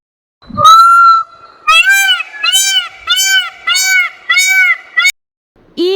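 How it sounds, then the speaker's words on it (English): A peacock calls with loud, nasal, honking wails, first one long cry, then a rhythmic series of five repeated honks, close and alone. "Peacock"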